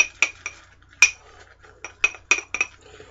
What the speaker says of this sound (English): And begin to make lather.